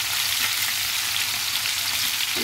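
Salmon frying in a pan, a loud, steady close-up sizzle and crackle of hot oil that continues without a break.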